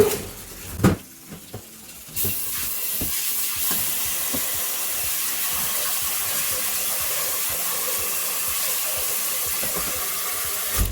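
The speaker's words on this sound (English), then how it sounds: "Okay, then we add water." A few knocks and clatters, then a steady rushing stream of water pours continuously into a pressure cooking pot holding pigeon peas, loud and close.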